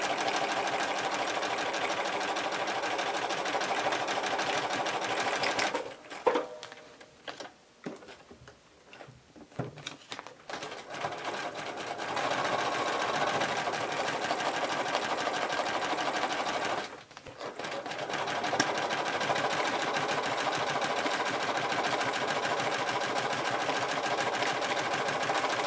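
A sewing machine runs steadily for free-motion thread scribbling with decorative thread on one side of a piece, humming continuously with two short pauses and restarts, close and loud, with no talking.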